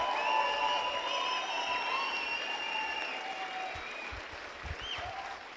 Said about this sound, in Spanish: Dale un fuerte aplauso al Señor y bendícelo